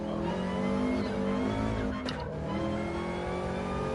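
A Subaru race car engine in a racing video game drones at steady revs, with a brief shift blip partway through, continuing loud and close with no talking over it.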